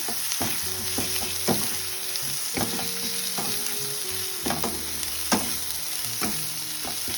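Spices with green chilli, turmeric and chilli powder fry and get stirred in a pan for an omelette curry: a dense, loud sizzle broken by repeated scraping strokes, with sustained tonal ringing underneath.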